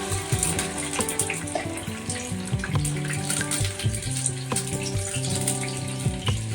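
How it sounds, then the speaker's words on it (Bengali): Water poured into a pan of deep-red fried onions while making mutton biryani: a steady, close splashing gush that runs throughout, with music playing underneath. "এবার আমি এর মধ্যে জল দিয়ে দেবো।"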